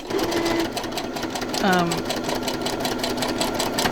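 A sewing machine stitches through a paper journal page with a rapid, steady mechanical rattle, close and continuous, while a person talks over it.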